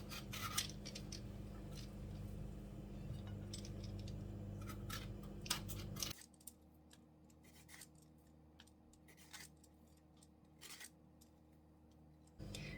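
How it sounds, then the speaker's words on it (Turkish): Zucchini thinly sliced with a kitchen slicing gadget, a rapid series of sharp close cuts and clicks over a low hum, continuing more sparsely after a pause. "Aparat yardımıyla kabaklarımızı ince ince kesiyoruz."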